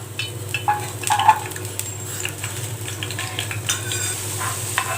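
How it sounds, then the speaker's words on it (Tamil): Steady oil sizzle and bubbling from garlic deep frying, with occasional stirring and light clinks of a utensil against the pan. "இப்போ கொஞ்சம் டீப் ஃப்ரை மாதிரி பூண்டை நம்ம ஃப்ரை பண்ணி எடுத்துக்கலாம்"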